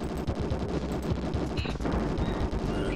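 Dense, continuous rapid-fire gunfire from a missile-shooting video game, loud and close throughout with rattling bursts and no pauses.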